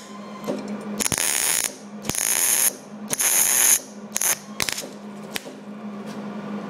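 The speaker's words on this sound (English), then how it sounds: "All right, so this is a hot weld when you go straight on with it." Hot arc weld laid straight onto metal in a flange versus butt welding job, heard as bursts of loud crackling, hissing arc over several seconds, broken by short pauses and sharp clicks, close up with no talk.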